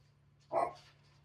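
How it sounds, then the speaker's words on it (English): A single short bark from a dog in a garage, fairly faint and alone over a quiet background hum. "It's my dog, also. He keeps me company in the garage."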